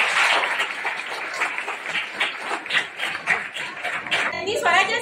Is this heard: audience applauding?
yes